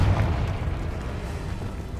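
A Confringo blast spell exploding in the wizarding game Hogwarts Legacy, a heavy, rumbling boom that starts loud and decays into a long low roar.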